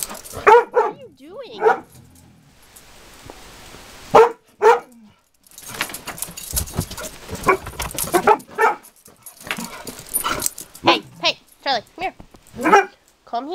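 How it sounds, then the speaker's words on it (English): Puppies yip and bark in short, high bursts close by, mixed with whimpers, while people talk over and between them. "It's the puppies."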